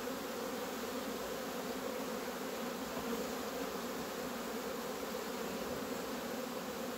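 Honey bees buzzing around hive frames filled with honey, a steady dense drone of many wings, constant and moderately close with no talk.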